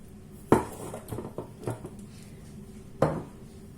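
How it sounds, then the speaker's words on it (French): Sfenj dough being mixed in a bowl with salt added, heard as two sharp clanks of utensil against bowl with softer scraping and tapping between them, close and alone. "Et on va mélanger bien comme il faut en rajoutant du sel."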